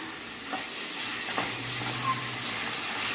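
Chicken pieces fry in hot oil with a steady, even sizzle and a few faint stirring clinks, close and continuous without talk.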